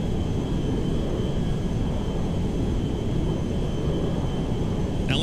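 An Antonov An-225 Mriya, the world's largest airplane, flies at altitude in GTA 5, giving a loud continuous low engine roar with no pauses and no speech.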